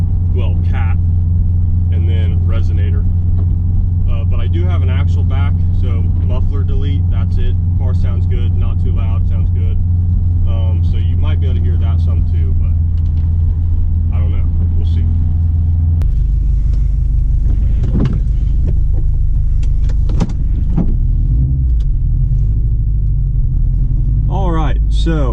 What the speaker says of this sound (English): I'm hoping that you guys are going to be able to hear some car noises here